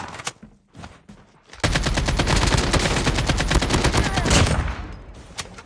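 Call of Duty Mobile gunfire: a few scattered game noises, then a long, loud burst of rapid automatic shots rattling steadily for about three seconds before tapering off.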